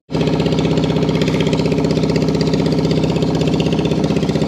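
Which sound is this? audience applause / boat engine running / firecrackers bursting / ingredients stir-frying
boat engine running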